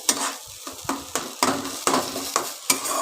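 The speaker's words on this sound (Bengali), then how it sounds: "নেড়ে নেড়ে পুরো শুকিয়ে ফেলতে হবে এটাকে" Mashed bhorta stirred in a pan until dry makes a rhythmic series of close scraping strokes, about two or three per second, over a light sizzle.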